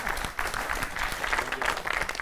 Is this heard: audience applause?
yes